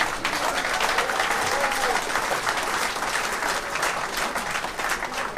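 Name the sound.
audience applause for veterans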